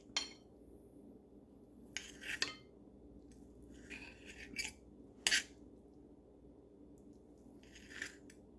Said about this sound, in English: We're gonna slice one up.